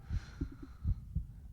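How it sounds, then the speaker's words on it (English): Slow heartbeat thumps in the PS1 racing game Racing Lagoon, a handful of soft, low, muffled pulses in near silence with a faint hum behind them. "A world void of sound where I could only hear my heartbeat."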